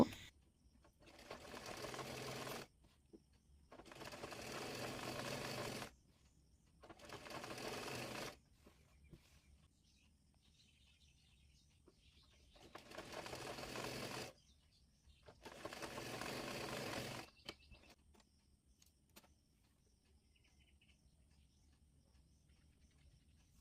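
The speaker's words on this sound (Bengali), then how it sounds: "নিচ থেকে মুড়িয়ে সেলাই করে একেবারে ক্যাপের উপরে দিয়ে চাপ সেলাই দিয়ে নেব" Sewing machine stitching hijab fabric, running in five separate bursts of a few seconds each with quiet pauses between them, close and steady, with no talking.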